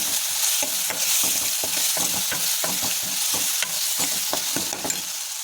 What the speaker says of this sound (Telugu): ఇందులో కొంచెం కరివేపాకు వేసుకుందాము ఇందులో కొంచెం పసుపు వేసుకుందాము పసుపు వేసుకొని తిప్పుకుందాము